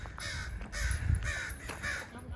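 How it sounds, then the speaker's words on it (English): Several crows caw loudly from the trees of a residential neighborhood, about four harsh calls spaced across a couple of seconds with faint outdoor background noise. "We have a lot of crows in our neighborhood. It's a murder. They're yelling about something."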